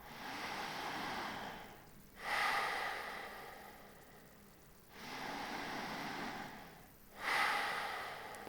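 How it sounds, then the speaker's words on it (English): Powerful, deliberate breathing during a yoga breathwork session, with two cycles of long forceful inhales into the chest followed by relaxed, audible exhales in a slow, even rhythm, close and alone. "Simply powerfully breathing into the chest and relaxing the breath out."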